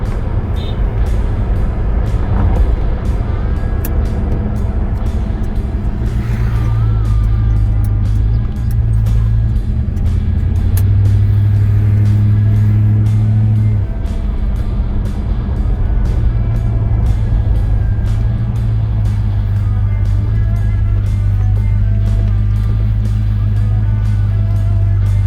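A 1977 Buick Skylark two-door hatchback with a 301 V8 drives along, its low engine drone and road rumble steady and loud throughout, rising and easing slightly as speed shifts.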